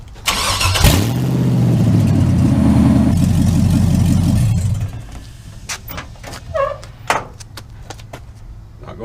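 A 1983 Mazda with an LS engine and a newly swapped 5-speed transmission cranks and fires, then runs for a few seconds with a loud, steady idle before cutting off. Clicks and knocks follow.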